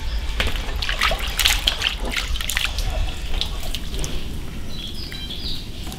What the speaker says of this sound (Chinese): 先把牛肠子洗一下。